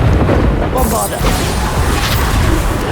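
A Bombarda spell explosion in Hogwarts Legacy booms loud and dense with rumbling blast energy over about three seconds, and a voice calls out the spell's name over it.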